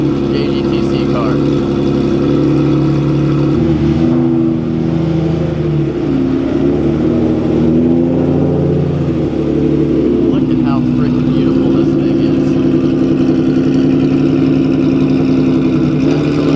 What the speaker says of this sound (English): this car sounds like a real JGTC car